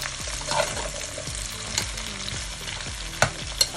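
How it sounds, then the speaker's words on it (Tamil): Cut carrots being stirred and fried in a pan for a coconut milk carrot curry: repeated scraping stir strokes in a steady rhythm over a continuous soft sizzle, close and moderately loud, with no talking. "ஓகே, கேரட்டை போட்டு பிரட்டிடலாம்."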